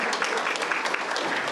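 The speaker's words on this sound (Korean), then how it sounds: "박수 보내주시기 바랍니다." Dense, steady applause from a crowd at a celebration for a biographical comic book, filling the whole short stretch at an even, fairly loud level with no break.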